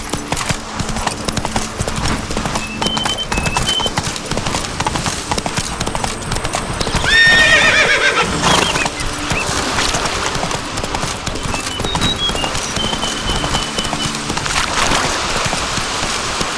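Horse hooves clip-clop steadily at a trot in The Witcher 3: Blood and Wine, with a short neigh in the middle. Rain-like ambience fills the background and some game voices are faint.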